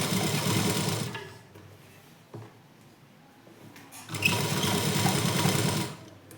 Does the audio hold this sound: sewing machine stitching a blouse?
yes